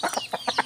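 Chickens cluck in a quick run of short, clipped calls, close by and fairly loud, with brief gaps between them.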